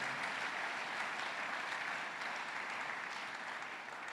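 Church congregation applauding during a Sunday worship service, a steady broadband wash of clapping from many hands that holds evenly throughout with no talk over it.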